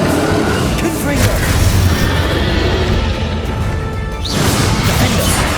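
Spell explosions booming and crashing in Hogwarts Legacy combat, dense layered blasts and impacts filling the whole stretch, with a sharp rising whoosh near the end and voices calling out over the din.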